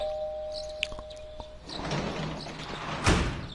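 Doorbell in the Persona 4 Golden video game, a short electronic ding-dong tone at moderate volume followed by a door sound and a louder thud, with background music.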